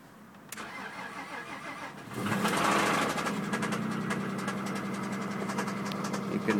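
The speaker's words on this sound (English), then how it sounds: "You can hear the engine knock." A cold MG ZT engine with about 95,000 miles and a camshaft knock is cranked and fires after a quiet start. It settles into a loud, steady idle with a rapid ticking knock and no talk.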